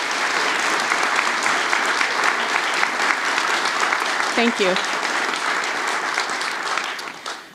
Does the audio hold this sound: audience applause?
yes